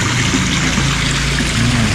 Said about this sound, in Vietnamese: Có một hồ non bộ nước chảy róc rách đây nè.